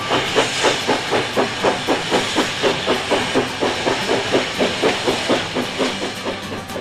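A steam locomotive on the Ohio Central railway chuffs past in a steady, rapid rhythm of hissing exhaust beats, loud and close, with rail clatter underneath and no voices.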